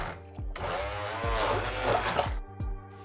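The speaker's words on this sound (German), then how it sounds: "So, ich püriere das jetzt mal eben." A handheld immersion blender purees oats with liquid for homemade oat milk, whirring in loud close bursts with brief dips and low thumps as it churns the mixture.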